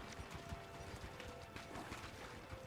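In The Witcher 4 video game, the horse Kelpie's hooves clip-clop in a quick, even rhythm, faint and under a soft wash of background noise.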